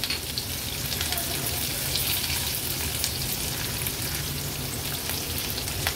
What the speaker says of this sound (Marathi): मिरची आणि आलं लसूण क्रश आहे ना तेलावरच असं परतून घ्यायचं आपल्याला